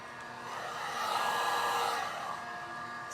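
A heat gun blows hot air over matte black vinyl wrap film on a Cybertruck, a steady close whooshing roar that swells slightly in the middle of its three seconds.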